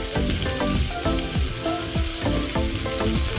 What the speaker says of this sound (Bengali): মশলাটা একটু ভেজে নিব যাতে কাঁচা গন্ধটা চলে যায়